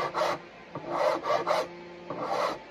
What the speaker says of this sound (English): Now take your bigger, thicker rasp.